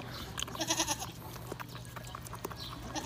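Goats bleat on a farm in the Philippine countryside, several overlapping cries close by over a busy background of rustling and clatter.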